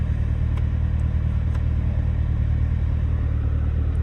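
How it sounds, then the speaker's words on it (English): A Corvette ZR1 in sport mode sends out a deep, continuous exhaust rumble at steady idle. The sound is loud and close, with no voices over it. "When you're on tour, you can't really hear the exhaust, but once you go ahead and put it in sport, you can hear it louder."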